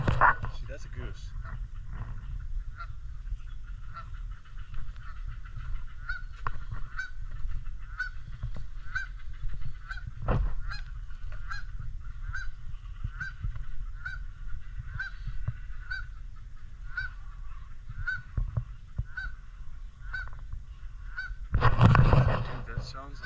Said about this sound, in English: See, that's a goose.